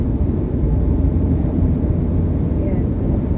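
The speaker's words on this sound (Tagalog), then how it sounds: "Baka naririnig nyo yung yung tunog ng hangin." Heavy, steady rumbling wind noise inside a car driving on a highway through a Canadian winter snowstorm, loud and continuous, with a faint high squeak near the end.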